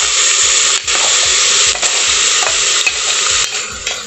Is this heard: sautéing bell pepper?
yes